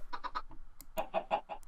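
Chicken in a Minecraft mod, two quick bursts of clucking separated by a short pause, close and clear with nothing else present.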